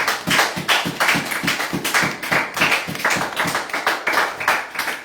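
A church congregation claps in a steady rhythmic beat, many hands striking together in a regular pulse that carries loud and continuous throughout, with no talking over it.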